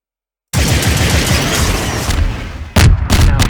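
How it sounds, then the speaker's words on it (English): Ace of Spades hand cannon firing in the video game Destiny: a sustained loud burst of gunfire noise followed by a couple of sharp, close shots near the end, with no talking. "it shoots pretty nicely. It's Ace of Spades. It's your old familiar gun."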